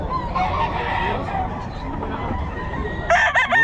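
A Golden Boy rooster, an early bird banded gamecock, crows loudly and close near the end after a stretch of busy crowd noise at a bird market, with other fowl clucking and honking around it.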